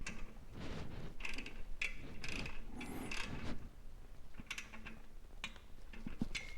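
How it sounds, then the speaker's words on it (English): A ratchet fitted with a 10mm socket tightens the exhaust band clamp on a Honda VTX 1300 with Cobra exhaust, making quiet, close, repeated clicking strokes in short bursts. "Last thing I got to do is tighten this band clamp with a 10mm socket."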